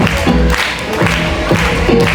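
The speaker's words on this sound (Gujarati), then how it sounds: "તાળીઓથી વધાવીએ" An audience at a children's prize-giving ceremony claps in a short, loud burst of applause that carries on through the moment with a few dull thumps mixed in.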